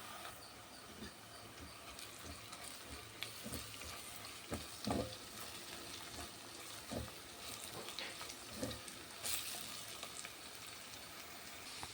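A soft, continuous sizzle and hiss of spices and garam masala sautéing in a pan for vada curry, with occasional faint clinks and scrapes.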